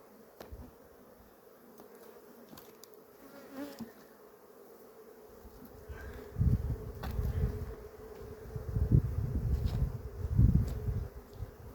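Honey bees buzz around hives being merged, weak varroa-damaged colonies, a steady droning hum that swells louder and denser in the second half, close to the listener.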